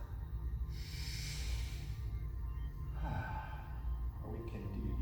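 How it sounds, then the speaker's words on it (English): During a yoga session, a person breathes in through the nose and out through the mouth: a close, airy inhale, then softer breathy exhales, heard alone against a quiet room. "We can breathe in through the nose."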